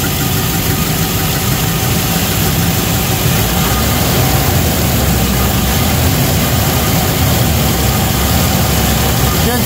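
Loud, steady Land Rover Discovery engine running close by with a knocking fault and oil leak, a deep rumble with a rough mechanical clatter, holding a fairly even pace without clear rises in pitch.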